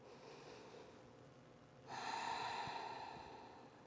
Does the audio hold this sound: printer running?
no